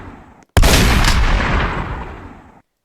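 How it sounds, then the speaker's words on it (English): A shotgun fires once in a self-made fighting video game: a single loud, sharp blast with a reverberant tail that fades over about two seconds before cutting to silence. "Same with the frickin' shotgun."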